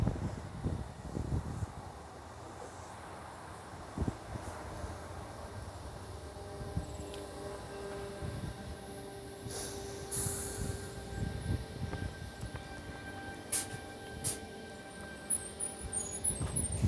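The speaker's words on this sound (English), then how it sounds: "just before another train comes in." A train pulls into a station platform, heard from a distance as a low, steady rumble with a few faint wheel squeals and scattered clanks running throughout.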